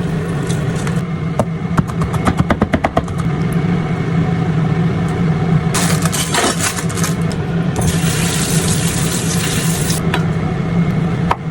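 Cold tap water runs steadily over produce being rinsed in a sink, a continuous wash with a brief rattle of handling early on and a louder gushing burst toward the end.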